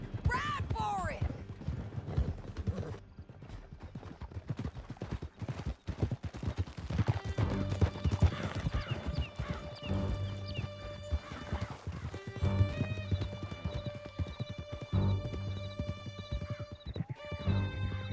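Galloping horses in Red Dead Redemption 2 pound out a steady, close clip-clop of hooves, with loud whinnies, occasional distant gunshots and shouting voices mixed in.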